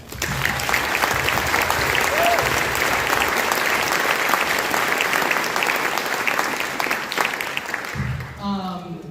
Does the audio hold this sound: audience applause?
yes